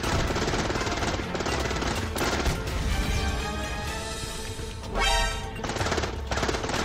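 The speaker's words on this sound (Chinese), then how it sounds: "七夜哥，我要被那个哨塔打成智障了！" Rapid automatic gunfire from a sentry tower in a mobile battle video game rattles on in dense, loud bursts with crashing impacts, nearly continuous throughout.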